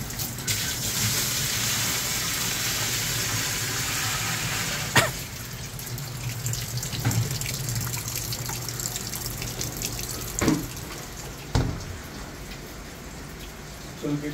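Water from a bucket pours into a Panasonic 8 kg automatic washing machine under repair, a steady close gushing rush with a few thumps and knocks along the way.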